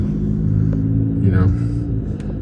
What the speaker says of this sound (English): a logging truck going up the road there